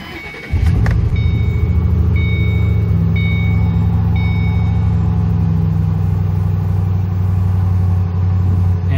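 A Ford Mustang GT converted to run on E85 ethanol with new injectors and a new tune cranks briefly, then fires and settles into a loud, steady, rumbling idle close by, continuing without talk.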